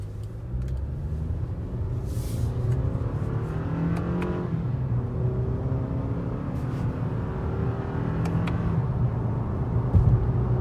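A car with paddle shifters is driven on the road, its engine revving and droning steadily and loudly throughout with shifting pitch as gears are changed down, the rumble continuous and close with no talk.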